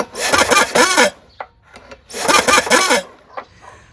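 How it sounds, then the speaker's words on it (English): Engine valves on a Kawasaki FC420V are lapped back and forth to grind off rust, giving two bursts of rough, scraping strokes close by, each followed by a few short, sharp clicks and brief silences. "Keep moving them back and forth, and slowly they will grind the rust away from the valves"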